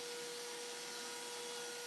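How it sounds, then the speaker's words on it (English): A vacuum cleaner runs during a bathroom renovation demolition, a loud, steady, unbroken whine with a constant tone throughout and no voices. "Use that vacuum as much as you can"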